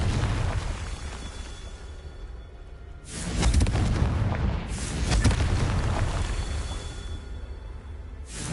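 Confringo blasting spells detonate in the video game Hogwarts Legacy, with loud booming explosions and rumbling bursts over a continuous dense roar of game audio.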